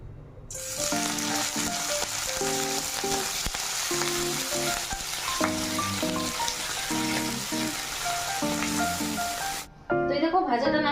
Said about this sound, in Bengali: করলা ভাজাটাকে ঝপাঝপ চাপিয়ে দেবো